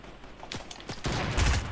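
Gunfire in the Fortnite video game: a few sharp shots early on, then a louder burst of rapid fire toward the end, fairly close, with no voices over it.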